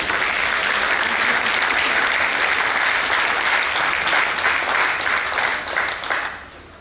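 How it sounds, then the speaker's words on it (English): A conference audience gives sustained applause, a dense steady wash of many hands clapping that fades out at the end. "Please welcome him by clapping."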